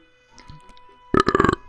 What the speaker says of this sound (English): I wasn't prepared to burp again.